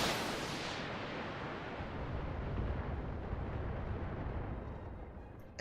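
Weapons fire and explosions in the mech game BattleTech make one loud, heavy blast that rolls into a sustained, fading rumble with no talking over it.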